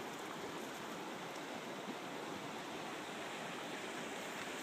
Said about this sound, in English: Now this is the big creek.